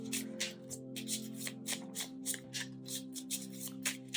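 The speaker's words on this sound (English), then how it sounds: "let me just shuffle a few cards for you" Oracle cards are shuffled by hand in a steady rhythm of soft riffling bursts, about two per second, close and clear over a low steady hum.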